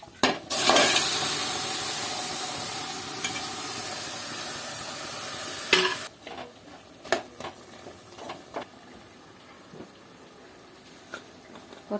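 Chicken frying in a pan with turmeric, chili powder and chicken masala, stirred: a loud steady sizzle for about six seconds, then quieter scattered scraping and stirring clicks.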